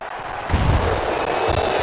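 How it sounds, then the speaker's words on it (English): Cannon fire inside the Tampa Bay stadium in a Madden football game, a deep booming blast rolling into sustained rumble and crowd roar, loud and close. "So fire the cannons"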